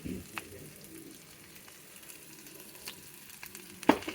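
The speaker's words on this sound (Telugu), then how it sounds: "ఇది కొద్దిగా వేగాలి" Broad beans fry in a home kitchen pan for a lunch dish, giving a faint, steady sizzle with a few soft clicks and a brief sharper scrape near the end, with no talk.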